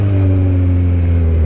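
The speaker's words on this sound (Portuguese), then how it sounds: "Que a gente quer ouvir as reduzidas." A Kawasaki Z1000 motorcycle engine droning steadily and loud up close, a sustained low engine tone with no clear blips or changes in revs across the brief moment.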